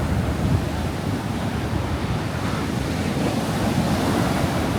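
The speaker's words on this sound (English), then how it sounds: "there is something very mysterious and very scary about the ocean" Ocean waves surge against the Algarve coast of Portugal in a steady, loud roar of surf, with gusting wind across the microphone and no voices.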